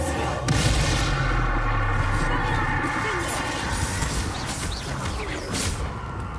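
A Bombarda spell explosion crashes in Hogwarts Legacy, a booming blast with rumbling debris amid busy game noise, while a voice talks over it.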